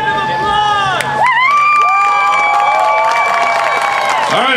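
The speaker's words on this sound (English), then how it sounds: "She deserves a round of applause!" Crowd cheering and applauding at a skydiving show in Anderson as jumpers land, loud and continuous with whoops and children's shouts, a whistle-like tone sliding through the noise.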